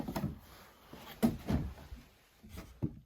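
Old wooden drawers in an abandoned country house being pulled open and pushed shut, a few soft knocks and scrapes spaced across the moment, fairly quiet and close.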